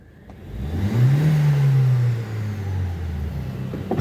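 A car engine up on a workshop lift revs hard from idle, climbing to a steady high-rpm drone held against the rev limiter, then easing back down; loud and close, no talk.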